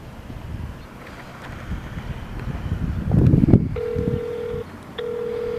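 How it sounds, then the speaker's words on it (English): A phone's ringback tone sounds twice on speakerphone as long steady beeps over wind buffeting and rustling, with a brief burst of dial tones beforehand. "Hope y'all can hear it's ringing, right?"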